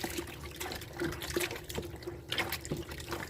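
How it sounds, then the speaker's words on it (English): White cotton underwear is rinsed by hand in water, with soft sloshing and trickling splashes coming in irregular bursts close by, moderately quiet, and no talking. "Yeah, just a really good rinse like that."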